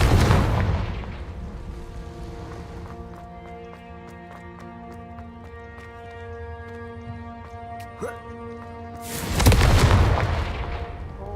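Confringo fire spell explosions in the Hogwarts Legacy video game: a loud blast opening the passage and another near the end, with sustained tonal game music between and no talk.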